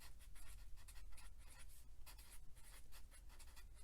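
A pen scratches across paper in quick rhythmic strokes while a math calculation for a circle's center and radius is written down, close and faint with no talking.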